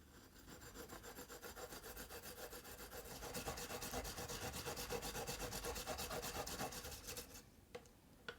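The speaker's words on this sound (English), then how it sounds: "Peel the ginger and grate." Fresh peeled ginger rubbed against a grater for a single serving, a steady rhythmic rasping scrape that runs continuously and grows a little louder partway through, then stops with a few light knocks at the end.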